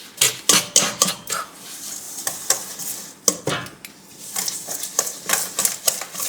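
A whisk clatters rapidly against a bowl while mixing a sweet batter, brisk metallic ticks and scrapes in quick uneven bursts, close and fairly loud.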